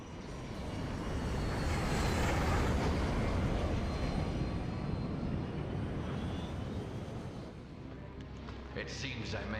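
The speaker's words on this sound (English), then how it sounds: "That's a big plane. That's such a big plane." A large airplane flies in Resident Evil 5, a loud, steady broadband engine roar lasting throughout and easing slightly near the end, with game sounds and speech mixed in.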